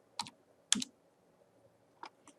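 Control numbers are typed on a computer keyboard in a few quiet, sparse clusters of key taps, close and clear in an otherwise silent room.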